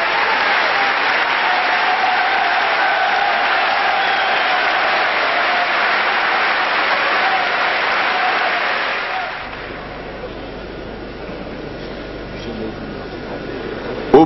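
A large crowd applauds steadily as the Yugoslavia and France teams walk onto the field for a final, the clapping loud and sustained before fading to a lower murmur.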